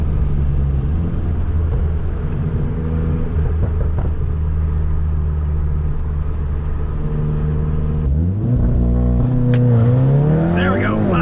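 An APR Stage 2 tuned MK7.5 Volkswagen Golf R, heard from inside the cabin as a steady, loud engine drone that rises sharply in pitch near the end as it accelerates hard with wheel spin, with a voice talking over it.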